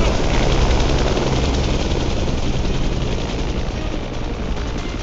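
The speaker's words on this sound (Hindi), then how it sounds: "हेलीकॉप्टर" A video game helicopter's rotor thrums loudly and steadily throughout, a dense continuous roar with a pulsing low rumble and no voices.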